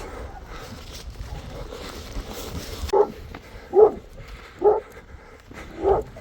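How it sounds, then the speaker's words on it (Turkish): A pack of dogs, including Kangals, bark in short bursts, about four distinct barks spaced roughly a second apart, moderately close over a murky background hum. "burada bir kalabalık köpek grubu var"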